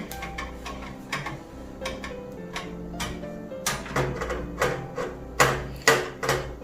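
A hex standoff screw is driven into a computer case with a hex driver, giving a string of small clicking and scraping ticks close by, irregular at first and then sharper near the end.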